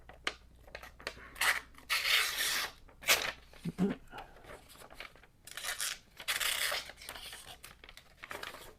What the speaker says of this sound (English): Let me grab some paper, and we'll do a little paper cut test.